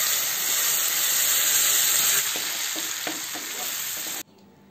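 Ground coriander chutney sautés in a pan with curry leaves in hot oil, a loud close continuous sizzle and hiss that cuts off sharply just before the end.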